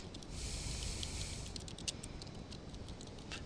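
A computer keyboard is typed on in a quick, uneven run of light clicks, close and fairly soft, with no voices.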